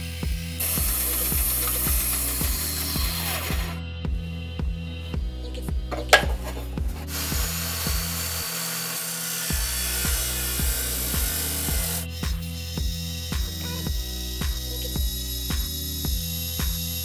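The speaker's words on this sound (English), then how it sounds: "cut those pieces out of the aluminum" A hand saw cuts aluminium clamp pieces for a mini lathe with a steady back-and-forth rhythm of metallic rasping strokes. The strokes are close and continuous, with a brief pause midway.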